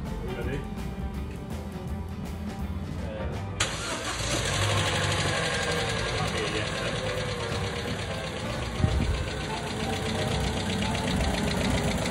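A freshly swapped motorcycle engine fires up after a few seconds of quiet and settles into a steady, busy run with a rattly mechanical clatter from a noisy chain. It stays fairly close and constant throughout, with one louder knock.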